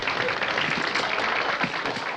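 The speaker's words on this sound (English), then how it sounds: "Hear that applause?" A theater audience applauds a magic show in a steady, dense wash of clapping heard from the stage wings, with no voices over it.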